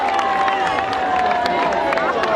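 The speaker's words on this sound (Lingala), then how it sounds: "Acclamez pour vous-même" An audience at a family memorial gathering applauds and cheers in a steady, dense wash of clapping and crowd noise, with a voice carrying over the top.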